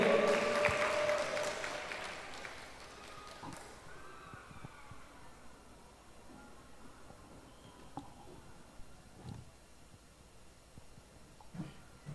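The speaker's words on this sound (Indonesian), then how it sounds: "Beri tepuk tangan yang meriah" An audience welcomes a speaker, Guru Gembul, with applause that starts loud and fades away within about four seconds, leaving a quiet room with scattered small noises.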